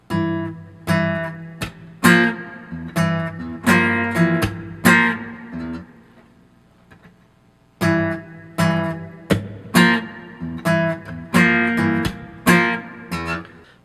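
Acoustic guitar plays rhythmic chords punctuated by percussive thumb slaps and popped high strings, in two loud close phrases separated by a brief quiet pause.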